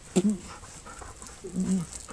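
A Belgian shepherd dog, a strong working breed, pants and whines in two short, close bursts during a tug-of-war bout, with faint background noise between them.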